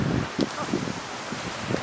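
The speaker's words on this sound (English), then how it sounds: "And it's very windy." Steady wind buffets the microphone in a continuous rumbling rush, with brief rustling gusts and some talking underneath.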